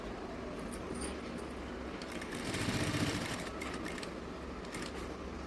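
Electric sewing machine stitching a fall onto a saree, a steady close mechanical whir running throughout with a slight swell in speed midway, no talking.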